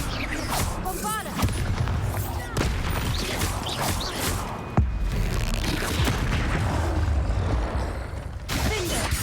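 Booming spell blasts and impacts from combat in the video game Hogwarts Legacy, the Bombarda explosion spell, thudding over a dense, continuous mix of game effects, with voices calling out spells throughout.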